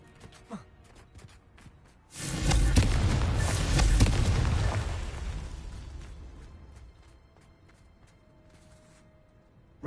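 A Confringo explosion spell in Hogwarts Legacy erupts as a sudden loud blast with a roaring, crackling body that slowly fades over several seconds, preceded and followed by faint small sounds.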